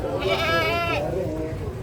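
A male goat bleats once at a goat market, a wavering, drawn-out cry close by for about a second, over a noisy outdoor background.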